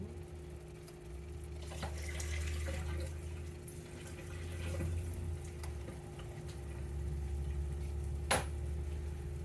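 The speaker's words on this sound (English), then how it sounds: "I gotta drain my potato." Water from cooked potatoes pouring out to drain in a kitchen, a soft steady splashing and trickle with a faint clunk near the end, quiet and without talk.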